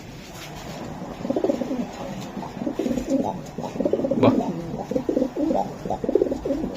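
Club-raced racer pigeons coo in low, throaty bursts that grow busier and overlap. Someone briefly speaks close by.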